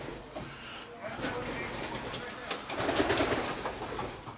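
Racing pigeons cooing inside a pigeon loft in Slobozia, Romania, with soft repeated coos and rustling close by, heard beneath people talking.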